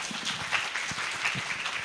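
Steady applause from a seated audience fills a Korea University lecture hall after the president's congratulatory address, brief and dense with no pauses.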